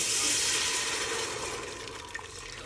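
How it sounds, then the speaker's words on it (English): Salsa sauce poured into a pot of hot oil for chilaquiles, giving a loud, steady broadband sizzle and rushing hiss that slowly eases over a few seconds, with a small splash or pop near the end. "I got a pot with oil heating up just so I can cook this salsa right here"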